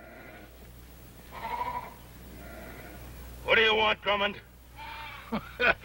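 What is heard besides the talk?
sheep bleating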